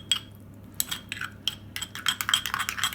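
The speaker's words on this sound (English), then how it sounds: "Give that a little stir." A spoon stirs a lemon juice mixture in a bowl, giving light clinks and scrapes that come close and clear in irregular bursts, with no talking.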